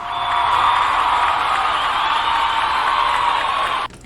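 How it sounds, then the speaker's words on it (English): A crowd claps and cheers with whoops, a loud, dense, sustained roar of applause that stays at a steady level and then cuts off abruptly near the end. "let's give him a round of applause"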